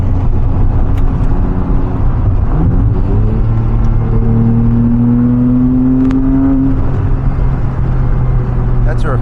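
A 2006 Porsche Cayman S with a six-speed manual, heard from inside the cabin while driving, its engine note rising steadily as it revs toward high RPM over a constant road rumble.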